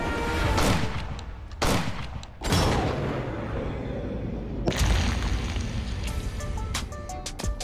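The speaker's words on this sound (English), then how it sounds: "I have waited half of my life to shoot a Boutet." An antique Boutet gun is fired in a series of loud, sharp booms spaced a second or so apart, each followed by a brief ringing decay, close by with no talk.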